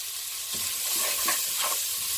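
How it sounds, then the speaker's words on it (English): Pork steaks seasoned with salt and black pepper sauté in a pan, giving a steady soft sizzle with a few light stirring scrapes around the middle, close and unbroken, with no talking. "Saute these down for a couple of minutes and we will be back"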